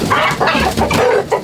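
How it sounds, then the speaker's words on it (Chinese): A free-range village rooster, about a year old, clucks loudly and close at a rural restaurant, in several rough bursts one after another with no talk over it. "这农村味的土公鸡"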